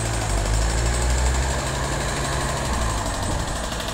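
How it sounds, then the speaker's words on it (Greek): A small bulldozer-mounted drill works at a stadium construction site, giving a continuous loud engine rumble with steady pounding vibration throughout. "Εδώ έχουμε τη μικρή την μπουλντόζα, το τρυπάνο ουσιαστικά."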